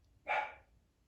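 One dog barks once after a brief quiet moment, a short clear bark heard at some distance that fades away.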